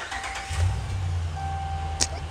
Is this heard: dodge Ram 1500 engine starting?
yes